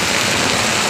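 Heavy rain with hailstones pounds down in a steady, dense roar, loud and unbroken for the whole second with no voices.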